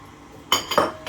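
Lemon zest stirred into cake batter in a bowl: three quick, close clinks of a utensil against the bowl after a brief quiet start.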